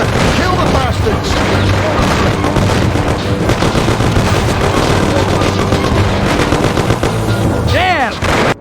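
Loud, dense gunfire in a shootout in the 1930s gangster game Mafia: The City of Lost Heaven, continuous machine-gun rattle and single shots with booms, shouting voices heard over the fight.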